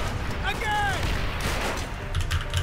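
Rapid gunfire and explosions in the video game Call of Duty: World at War, a dense continuous barrage with tanks nearby, while a player talks over the action.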